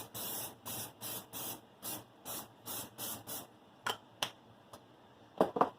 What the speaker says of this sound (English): now we're going to spray this side down with our olive oil spray